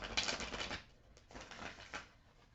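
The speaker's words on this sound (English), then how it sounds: "shuffling in this method can get a little loud" Crisp papery riffling of tarot cards being shuffled, several quick bursts with short pauses between, fairly close and moderately loud.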